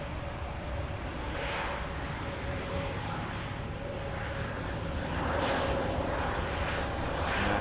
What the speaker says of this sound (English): There's the Lufthansa A320 Neo powering down